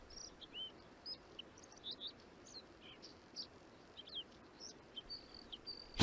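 Aquatic and shore birds call at the Tavira salt pans in the Ria Formosa, with many thin, high chirps and tweets scattered steadily over a faint open-air background.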